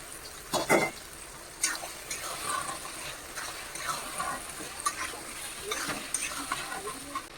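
Spatula stirring fried shrimp, meat and egg through mixed fried rice in a hot pan, with a steady sizzle and repeated scraping strokes, a couple of sharper clanks near the start, no talking.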